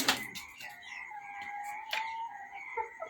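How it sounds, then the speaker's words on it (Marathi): An injured hen kept indoors, once bitten by a dog, gives a few short clucks and squawky calls, near and moderately loud, with no talking. "ही आपली ती कोंबडी आहे जिला कुत्र्याने चावलं होतं"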